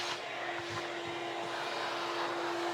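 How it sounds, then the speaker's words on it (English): A vacuum cleaner drones steadily while clearing sanding dust off a curly ebony bass fretboard, a continuous close whooshing hum with a fixed whine tone throughout. "vacuum off the excess so we don't get too gunked up"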